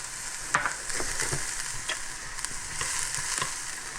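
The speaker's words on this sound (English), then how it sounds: "I'm going to add a little olive oil to our pan, and then some shallots" Shallots sizzle and fry in olive oil in a pan, a steady close crackle with occasional stirring clicks and scrapes, and no talk over it.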